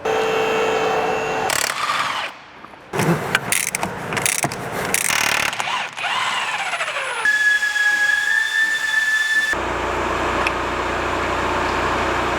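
Tools work to remove a car's suspension shock absorber, with ratcheting clicks, metallic scrapes and clunks in short uneven bursts, followed by a sustained mechanical whine and a steady hiss, loud and close, with no voices.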